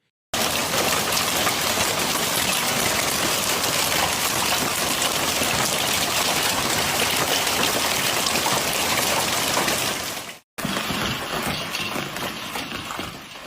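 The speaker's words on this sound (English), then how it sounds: "torrents of water mixed with hail rushing through the streets, sweeping along debris, leaves, and mud" Heavy rain and hail drive down over Cagliari's city streets as torrents of water rush through, a dense, steady roar of impacts and flowing water that runs continuously at close range, briefly cut off near the end before resuming.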